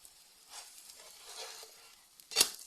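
Garlic paratha fries in oil in a pan over low heat, giving a soft, close sizzle with faint stirring or shifting noises and a brief sharper scrape near the end.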